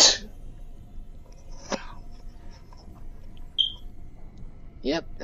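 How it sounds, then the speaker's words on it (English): A single sharp sneeze bursts out at the start, loud and close, followed by quieter scattered sounds and brief vocal noises. "that was a sneeze"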